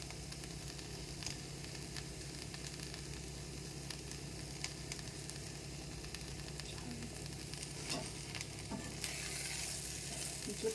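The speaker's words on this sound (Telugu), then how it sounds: "ఇప్పుడు చూడండి, బాగా ఫ్రై అయిపోయింది దొండకాయ." Chopped ivy gourd (dondakaya) fries in a pan with roasted chickpea powder, giving a steady, close sizzle with occasional stirring scrapes and a brief louder hiss near the end.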